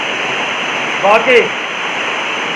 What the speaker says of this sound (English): best waterfall experience I've had